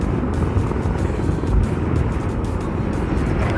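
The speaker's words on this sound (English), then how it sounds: "Ayun o, malaking drone." A large drone flying overhead, a continuous loud rotor hum and broadband whir that holds steady throughout, heard alone without talk.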